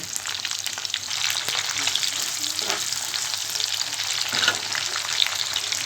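Onions and potatoes sizzle and crackle in hot oil, a steady frying hiss with occasional stirring scrapes, no talking.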